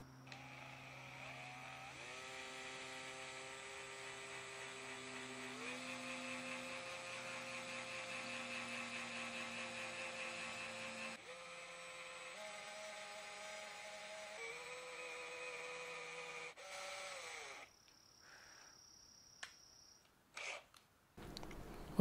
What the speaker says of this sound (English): I'm drilling for the screws that will attach the bridge.